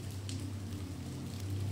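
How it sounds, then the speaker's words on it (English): Rain falls at night in a steady, soft hiss of drops over a low constant rumble, continuous and close, with no voices. "as the rain drips down the gutter and begins to pool and form a tiny pond."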